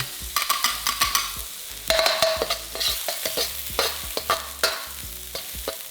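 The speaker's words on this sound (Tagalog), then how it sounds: "Igigisa ko lang itong sibuyas." Onion sautés in oil in a pan, with a crackling sizzle under repeated sharp spatula scrapes and stirring knocks, close and fairly loud throughout with no talking.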